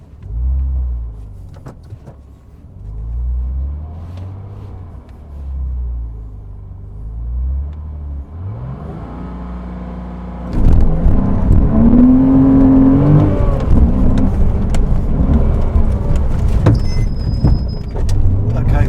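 A Porsche Cayman 987 at a Goodwood autosolo, stability control off, rumbles at low revs with a pulsing engine note, then surges loudly into hard acceleration, close and continuous, with a voice talking briefly early on.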